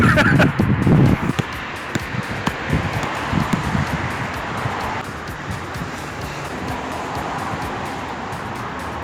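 Steady wind buffeting a microphone outdoors at a basketball hoop, a loud rushing roar throughout, with brief voices and rustling near the start.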